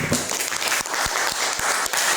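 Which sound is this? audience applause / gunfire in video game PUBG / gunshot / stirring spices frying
audience applause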